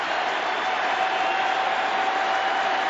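Large postseason baseball crowd of over 43,000 at a Houston Astros NLCS game roaring steadily as fans rise for a two-strike count, a dense, continuous wash of cheering with no pauses.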